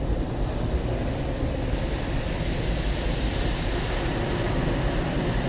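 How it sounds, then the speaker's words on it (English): Automatic Kiss car wash drive-through working on a car, heard from inside as a steady, loud rushing wash of water spray and brushes, continuous and broadband throughout with no voices. "Oh, I love getting the car clean."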